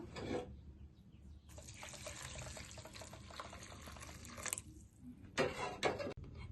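Soaked ridge gourd peels are washed by hand in water, with splashing and running water in bursts separated by short pauses, close and fairly loud, with no speech.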